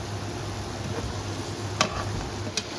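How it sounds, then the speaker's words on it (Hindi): Spices for Kashmiri chicken fry and sizzle in a pan with a steady soft hiss, broken by a couple of sharp stirring clinks near the end. "सारे मसाले हमने इसमें ऐड कर लिए। इनको हम अभी अच्छे से फ्राई कर लेंगे।"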